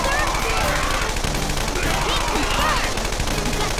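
Rapid bursts of gunfire in a Persona 5 turn-based battle, sharp repeated shots in quick succession over game music, with a player talking over them.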